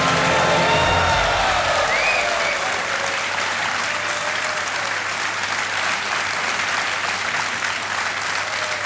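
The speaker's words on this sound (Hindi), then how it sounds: "जोरदार तालियां बज जाए इनके लिए।" A game show studio audience bursts into loud, sustained applause for a contestant receiving a cheque, a dense roar of clapping that swells in at the start and stays strong throughout.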